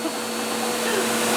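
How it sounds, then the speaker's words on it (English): A vacuum cleaner runs steadily with a continuous broadband whir and a faint motor hum, close by, with no talking over it. "You'll be vacuuming before we know it."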